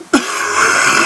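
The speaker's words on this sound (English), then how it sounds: "can I hold this cough back?" A single close, loud cough bursting out sharply, then trailing into a rasping, throat-clearing rumble.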